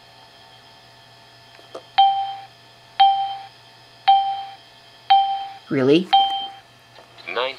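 A timer alarm on a 420CDT laptop running Windows 3.11 sounds five evenly spaced electronic chimes about a second apart. A person speaks briefly near the end.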